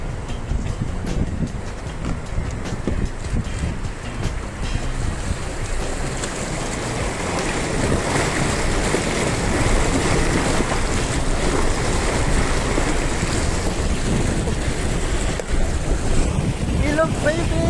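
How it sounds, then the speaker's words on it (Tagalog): A vehicle fords a river between Puerto Galera and Abra de Ilog, with steady rushing water and wind noise filling the whole stretch, continuous and loud, with a brief voice at the start. "Lulusong na tayo sa ilog."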